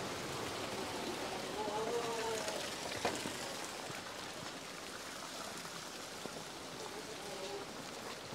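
Rain falls steadily at a goat farm, a soft continuous hiss of drops on surfaces heard from a distance, faint overall, with a few brief taps and murmured voices in the background.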